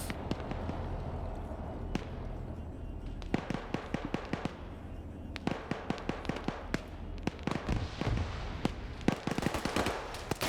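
Grenade blasts and gunfire crackle through a military video game battle, with many sharp, irregular bangs scattered across the stretch, some clustered in quick bunches and others isolated, moderately loud over a low rumbling background.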